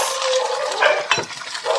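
Garlic, onion and tomato sauté in a hot pan with a steady, bright sizzle that runs throughout, close and fairly loud, broken by a few scraping stir sounds.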